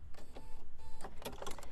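A BERNINA 790 P sewing machine stitching an embellishment onto a jean jacket, with a rapid, close mechanical whir and hum that pulses in quick bursts and stops and starts over a couple of seconds.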